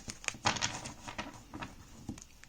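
Tarot cards shuffled by hand in a reading, giving soft irregular papery patters and riffling flicks, close and moderately quiet with no talk.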